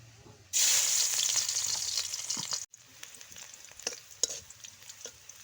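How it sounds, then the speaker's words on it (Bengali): Chilies frying in hot oil in a wok, a loud steady sizzle that starts abruptly, runs for about two seconds, cuts off, then gives way to quieter crackles and scattered pops. "কড়াইয়ে তেল দিয়ে দিয়েছি, ঝালটা ভেজে নেব"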